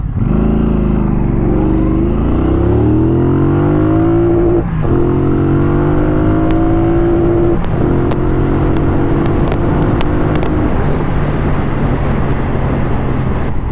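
A Triumph Bonneville Bobber motorcycle accelerates along an open highway, its deep engine note rising through the revs with a gear change, loud and close over rushing wind.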